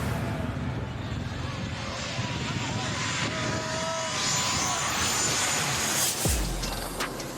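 A plane roars loudly overhead near an airport runway by a beach, its engine noise steady and broad, and a voice talks over it throughout.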